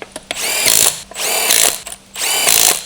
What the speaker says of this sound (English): Use a large 21 millimeter deep socket with an electric impact wrench to tighten